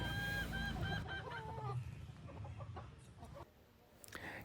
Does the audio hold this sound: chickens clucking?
yes